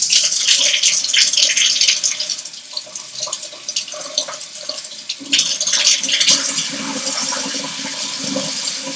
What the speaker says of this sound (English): And then just add a little bit of warm water.